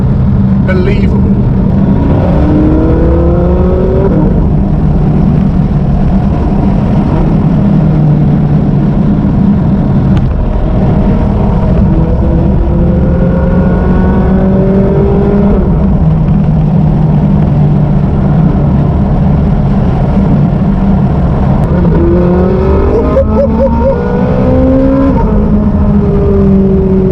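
A Shelby GT350 and a Ferrari 458 drive through Las Vegas, their engines droning steadily with repeated rising revs and gear-change sweeps, loud and close throughout the clip, with voices talking over the engine noise.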